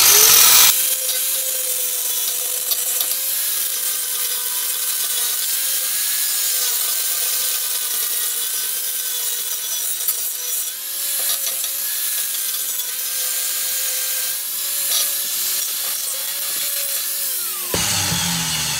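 An angle grinder grinds down welds on a lawn mower, a loud, close, continuous high whine with slight wavering pitch that runs steadily for most of the stretch before cutting off.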